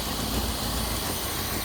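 A long-neglected Pontiac Phoenix engine idles steadily after sitting for over twenty years, a close, even mid-pitched rumble with constant vibration and no voices over it.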